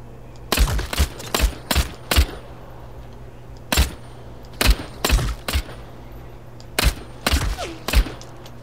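Assault rifle fire in Vampire: The Masquerade Bloodhunt comes in short sharp bursts of several rapid shots, spaced by brief pauses, over a low steady game hum.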